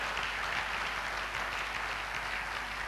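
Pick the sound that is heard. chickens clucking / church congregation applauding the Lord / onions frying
church congregation applauding the Lord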